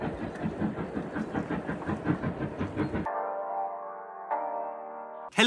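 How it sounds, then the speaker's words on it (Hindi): The Harry Potter-themed train goes by with a rhythmic, rumbling clatter of wheels, then gives way to sustained, tonal, horn-like notes that shift pitch once before a sudden loud burst at the end. "आ गई फाइनली, ये देखो ये हैरी पॉटर वाली ट्रेन है।"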